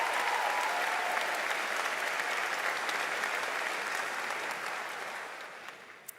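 Sustained applause from a large audience at a Liverpool University graduation ceremony, a dense, loud wash of clapping that holds steady for about six seconds and tapers slightly at the end.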